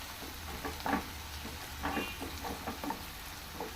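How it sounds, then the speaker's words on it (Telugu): Sliced onions fry in a pan with masala leaf, a steady close sizzle broken by soft scrapes and taps as a spoon stirs them, with no voices. "సో దీన్ని ఇలా బాగా ఇంకొక 2 మినిట్స్ వేయించుకున్నాం."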